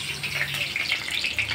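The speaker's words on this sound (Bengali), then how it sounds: "আলুটা ভাজি হচ্ছে" Potatoes fry in a pan, giving a close, steady sizzle with a soft, watery hiss throughout the short stretch.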